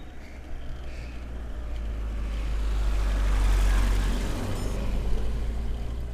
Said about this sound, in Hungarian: Ilyen közel kell a kocsinak eljönni ahhoz, hogy meg tudjon előzni.